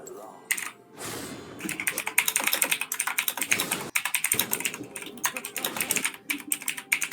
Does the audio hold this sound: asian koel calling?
no